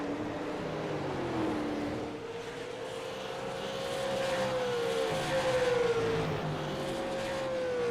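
Super late model race cars at North Wilkesboro Speedway drone steadily around the track, a loud continuous engine whine rising and falling in pitch as the cars pass, with no voices heard.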